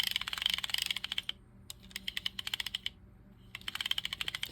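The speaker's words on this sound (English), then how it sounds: "it's a fairly free turning reel." Pflueger Rocket 1355 fishing reel spinning freely on the bench during service, giving a fast, even ticking clatter in steady bursts with a brief pause between runs, close and crisp.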